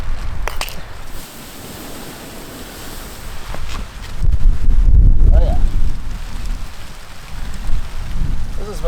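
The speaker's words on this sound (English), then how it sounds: "Supposed to rain this hard." Heavy rain drums on a tent in a dense, rough wash, swelling louder midway, with gusty buffeting close to the microphone.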